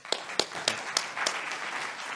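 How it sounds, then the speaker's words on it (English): A handful of separate claps ring out at roughly even intervals at a conference session, fairly sharp and moderately close, before fading into a low murmur. "Big applause for the two."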